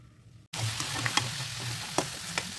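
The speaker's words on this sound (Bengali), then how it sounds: "একটু উল্টে পাল্টে দিলাম মাছটাকে" Giant river prawn frying in a pan, a steady close sizzle that starts abruptly after a brief quiet moment, with a few soft knocks and crackles as the prawn is turned over.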